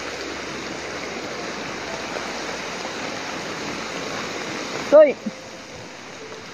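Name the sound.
rain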